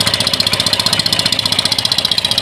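An engine fitted to a bamboo river raft runs with a fast, even chugging pulse, loud and close, steady throughout with no talk.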